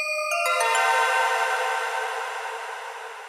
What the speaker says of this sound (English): This is the bells coming from the Hydrosynth.